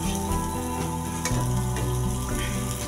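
Paneer frying in oil in a pan, a steady loud sizzle and crackle throughout, with no voices.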